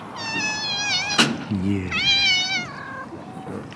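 A domestic cat meows loudly and close by, two long wavering calls separated by a sharp click, while a person speaks a single short word between them.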